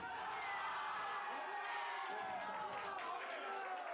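A watch-party crowd cheers faintly during a VCT Pacific Stage 1 Valorant esports match, a distant wash of voices and whoops that rises and falls under quiet commentary.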